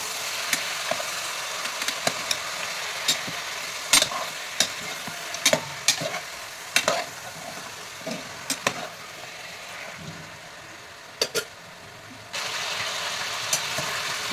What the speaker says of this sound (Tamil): கருவேப்பிலை போட்டுக்கலாம் சிக்கன் போட்டுக்கலாம் நல்லா வதக்கலாம்